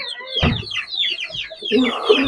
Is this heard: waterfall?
no